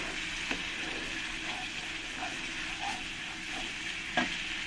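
Sautéed masala for katla fish curry being stirred in an oily pan: a few soft, scattered scrapes and clicks over a continuous gentle sizzle, with no voices.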